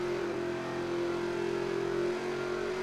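Race car engine in the NASCAR Heat 3 racing game, a steady sustained drone that stays loud and continuous throughout, with the motor sounding flat and bogging down rather than climbing in revs.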